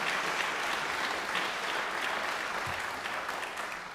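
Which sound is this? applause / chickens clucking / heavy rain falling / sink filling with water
applause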